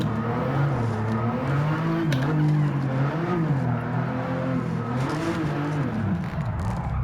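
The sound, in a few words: car sliding with tire squeal in video game Gran Turismo 7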